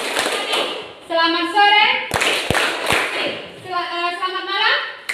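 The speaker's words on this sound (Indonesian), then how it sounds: "Jadi dengan melalui tepuk tangan ya." Schoolchildren in an Indonesian classroom clap in short rhythmic bursts on a teacher's cue, sharp sharp claps between the teacher's spoken prompts and children's sung replies.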